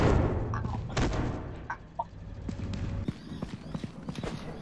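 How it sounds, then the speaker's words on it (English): Birds cluck softly in the video game Content Warning, a few scattered low clucks and faint thumps against a quiet background. "I can hear birds in your ear."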